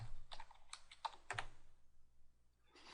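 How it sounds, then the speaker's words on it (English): Keys tap on a computer keyboard in a quiet room as a password is typed, a short run of close, light clicks that pauses before a few more strokes. "Put in my password."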